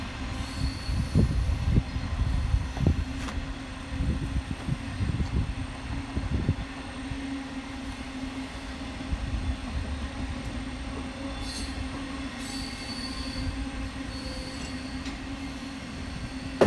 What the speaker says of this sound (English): double-headed Class 66 train hauling what I believe was scrap metal